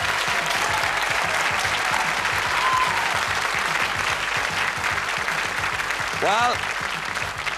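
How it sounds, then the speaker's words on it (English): Studio audience at the 1988 Going for Gold grand final applauds steadily for a departing contestant, a dense sustained clatter of many hands filling the whole stretch while a host speaks briefly over it. "A round of applause"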